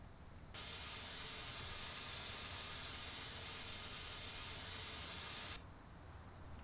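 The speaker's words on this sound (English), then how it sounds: "Got some awesome hissing sound effects of the air." A steady, loud air hiss from the air suspension lifting the mid axle of a DAF XF Euro 6 truck in Euro Truck Simulator 2, starting abruptly and holding evenly for about five seconds before cutting off.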